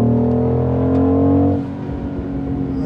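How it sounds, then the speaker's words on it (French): A BMW X3 M50 SUV with a sport exhaust line and four real tailpipes revs loudly in a sustained, strongly tonal drone, then drops after about a second and a half to a lower, rumbling idle. "ça c'est l'un des meilleurs moteurs de BMW, surtout avec une ligne d'échappement en sport et 4 vraies sorties d'échappement"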